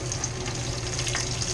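Green straws sizzle and fry in a pan, a close, steady crackling hiss that continues without pause.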